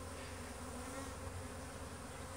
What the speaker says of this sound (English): So you see how the bees, they're all around this hole?